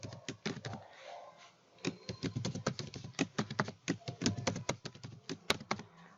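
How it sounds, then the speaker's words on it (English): Someone types a password on a computer keyboard in quick, uneven bursts of close, crisp keystrokes, with a brief pause near the start before the tapping resumes steadily. "Below, type in the password."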